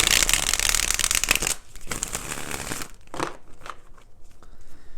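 Tarot cards being riffled and shuffled, a dense rapid flutter for over a second, followed by quieter bridging and several softer shuffles, close up with no talking.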